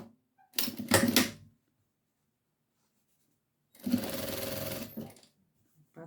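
A domestic sewing machine stitches the hem of a fabric baby bib in two short bursts, the first about a second long and the second just over a second, separated by silence. The stitching is close and clear, with no talking.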